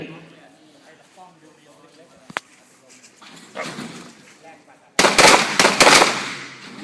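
Handgun shots at a self-defence shooting range: one sharp isolated crack early, then a loud cluster of rapid shots near the end. Faint talk and range commands are heard before the final volley.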